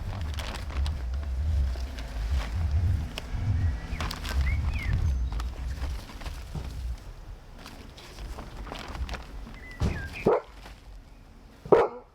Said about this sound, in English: Sorry about all the barking.